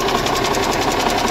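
The engine of a 1985 GMC General truck runs with its belts missing, giving a loud, steady, rapidly pulsing knock-like rumble close by.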